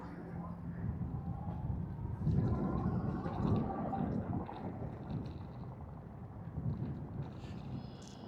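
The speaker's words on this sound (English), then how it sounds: "I hope the wind is pretty good and it's not messing up my voice" Outdoor wind buffeting a microphone beside an expressway near the Hammond, Indiana stadium site, a dull low rumble swelling and easing in gusts, fairly faint and unbroken.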